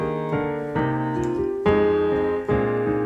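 Solo piano played in a heavy, overdone way on an arrangement, with thick chords and notes struck on several beats, sustained and loud throughout with no talking.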